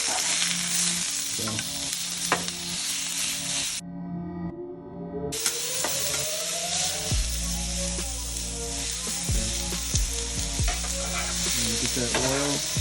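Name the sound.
cheesesteak meat searing and sizzling in a pan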